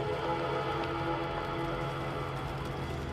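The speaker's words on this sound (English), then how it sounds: "It's raining." Rain falls in the video game This War of Mine, a soft, steady hiss that carries on evenly throughout.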